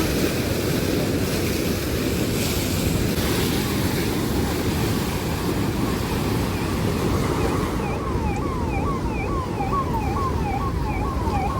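Water of the Kondaveeti stream rushing in a constant, dense roar, with a wavering siren rising and falling in the distance during the final few seconds.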